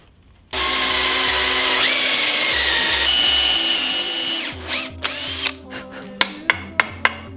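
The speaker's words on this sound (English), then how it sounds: "drill it out with a bit that is the minor diameter of this lag bolt" Power drill boring a hole for a lag bolt in a wooden flail maul handle: a loud, steady close whine for about four seconds that winds down, followed by a run of sharp knocks and taps.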